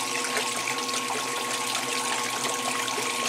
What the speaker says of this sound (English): It's gurgling.